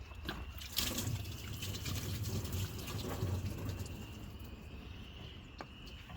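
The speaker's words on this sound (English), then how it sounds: "It's going to dump coolant out, so try and make sure you can get it to go down in your bucket." Coolant drains from a disconnected hose on a Jeep Grand Cherokee into a bucket, making a steady, quiet liquid pour and trickle that runs evenly for several seconds with faint drips, no talking.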